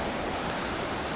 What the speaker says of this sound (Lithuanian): Latvijos jūra.